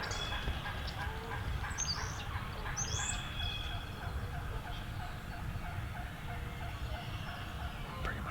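Distant wild turkey hens call, a few soft clucks and yelps, over steady outdoor background noise with no talking.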